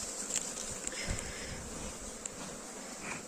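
Honeybees buzz in a dense, continuous hum close by at an apiary during honey harvest, with individual insects droning in and out over a faint background.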